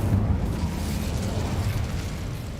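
Incendio fire spell blast from the Hogwarts Legacy video game: a steady, loud roaring rumble with a heavy low end that holds for the whole stretch, with no talking.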